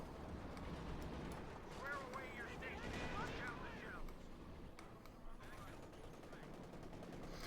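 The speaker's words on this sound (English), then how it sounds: "Bit of shooting there." Gunfire and machine-gun bursts from a Company of Heroes 2 battle between OKW and US forces rattle continuously at moderate level, with a commentator talking over the combat.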